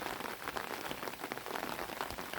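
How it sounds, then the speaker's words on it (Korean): Steady rain patters densely on a vegetable garden, an even hiss of countless drops with no voices. "여기 딱 농작물 자라기에 딱 좋을 만큼 비가 내리고 있습니다."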